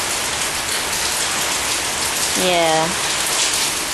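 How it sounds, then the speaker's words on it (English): Heavy rain pours steadily in a broad, close hiss over a flooding drain area. A person says a single brief word partway through, and a short tonal squeak also rises above the downpour. "We haven't had this much rain in a long time"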